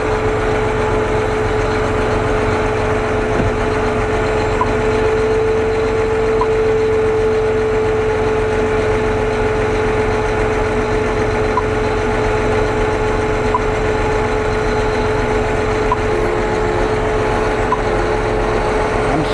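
A Kooima Ag Trner compost turner runs steadily with its hydraulic drive spinning a tire, a continuous loud engine drone with a constant tonal whine throughout, no voices.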